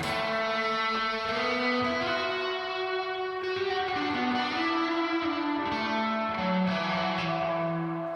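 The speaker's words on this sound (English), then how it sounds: "There's the line 6 delay pedal back there that's really going bananas." A heavily echoing, distorted electric guitar plays continuously through a Line 6 delay pedal, repeating notes smearing into a dense wash of delay trails.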